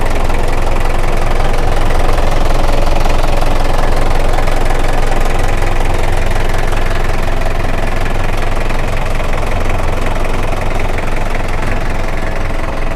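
A Hino FC9J 175-horsepower diesel concrete mixer truck engine idles loudly and steadily nearby, a continuous rumbling knock with no one talking.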